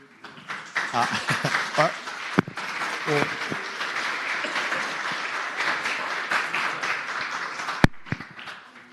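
Warm applause rises from people in the Virginia Senate chamber welcoming Jack and Jill guests from Prince William County standing in the gallery, a steady wash of many hands clapping for several seconds with a few voices mixed in.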